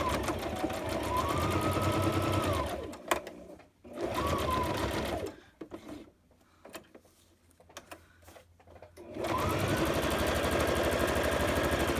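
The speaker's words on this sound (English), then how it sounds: "sewing down here and then leaving the needle in and pivoting, lifting up the presser foot and then sewing down" A sewing machine runs in steady stitching bursts while a side-tuck ephemera holder is sewn, stopping briefly to pivot with the needle down and the presser foot lifted, then resuming. Near and continuous, with quiet pauses in the middle.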